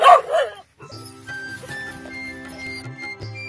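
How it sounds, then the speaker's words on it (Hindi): Guard dogs posted around a mango orchard bark and yip, a loud burst at first, then scattered barks and whimpers further off, with faint talk and a steady hum in the background. "इस बगीचे में अलग अलग कोनों पर 9 कुत्तों की गार्ड के साथ तैनाती की गई है।"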